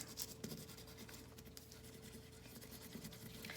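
A marker scribbles fast across paper laid over a leaf, making a continuous faint scratchy rubbing with rapid back-and-forth strokes and no talking.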